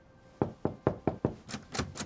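Knocking on a locked door in a video game: five sharp, evenly spaced raps, followed by three softer, brighter taps, close and clear with no talking.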